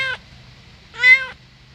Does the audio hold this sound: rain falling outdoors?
no